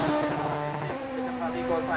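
A VW Golf 3 16-valve race car climbing a hill course at the St. Agatha hillclimb, its engine held at a steady high-revving drone under a commentator's continuous talk.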